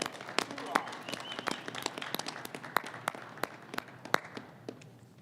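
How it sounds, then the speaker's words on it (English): Audience clapping at a Masonic grand lodge installation, a steady patter of many hands with sharp individual claps, fairly close and sustained throughout. "And a hearty round of applause."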